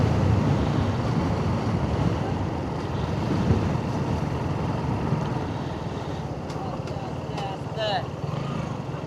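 Broadband roar of sea waves on a beach at night, loud and steady throughout with wind buffeting the microphone, and a few faint, brief chirps near the end.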